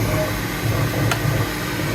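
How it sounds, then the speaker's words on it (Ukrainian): A 3D printer keeps running while powered by a Fossibot F1200 power station used as a backup supply; steady motor hum with soft rhythmic stepper pulses and a faint hiss, alone without talk. "Принтер працює, друкує далі."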